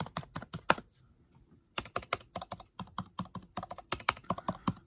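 Typing on a 2020 MacBook Air Magic Keyboard: quick bursts of close, slightly hollow key taps, with a short pause after the first second before steady typing resumes.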